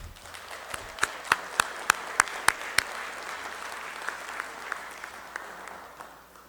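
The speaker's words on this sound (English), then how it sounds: "Let's give these young ladies a round of applause." School board meeting audience applauds honored students, a moderate wash of clapping with a few loud, sharp individual claps standing out near the start before the applause thins out.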